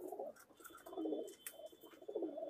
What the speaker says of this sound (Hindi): ये सभी डब वाले कबूतर हैं।